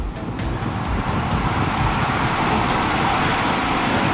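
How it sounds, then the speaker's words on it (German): Car driving close by along a bike path, a steady broad roar of engine and tires with wind rush, loud and continuous. "da fährst du hier auf dem Radweg und plötzlich Auto vor dir"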